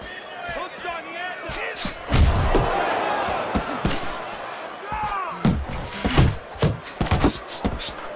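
Punches thud and slam in the Fight Night Champion boxing video game, arriving as sharp irregular impacts in quick combinations, with crowd noise and commentary running underneath.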